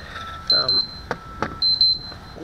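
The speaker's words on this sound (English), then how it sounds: "Let me go ahead and turn off this alarm." Electronic alarm beeping in short bursts, two clusters of high repeated tones about a second apart, with wind gusts and a quadcopter setting outdoors; loud and close.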